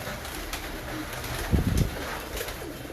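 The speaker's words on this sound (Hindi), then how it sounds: "बाजा टेडी कबूतर है, टेडी कबूतर, रॉयल टेडी।" Royal Teddy pigeons coo in a loft, soft low throaty calls rising in a short near burst midway over a quiet steady background.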